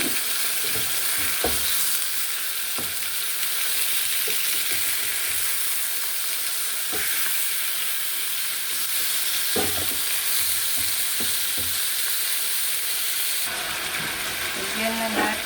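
Chicken sizzling and frying in a pan, a dense continuous hiss of hot oil with occasional clinks and scrapes of stirring, loud and close throughout.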